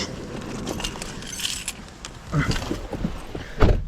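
Keys jangle in loose, metallic bursts while someone picks through trash, with thumps and rustling handling noise around them and a sharp clatter near the end.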